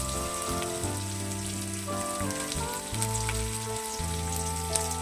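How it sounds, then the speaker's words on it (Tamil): Chicken fries with onions, salt and a handful of curry leaves, giving a loud, steady, rain-like sizzle that holds throughout, with a faint tonal hum underneath and no talking. "ஒரு கைப்பிடி கருவேப்பிலை போட்டுக்கலாம்"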